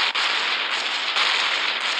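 Bomb blast in the combat game Gunship Battle, a steady roaring, crackling burst of explosive noise that swells slightly and stays loud throughout.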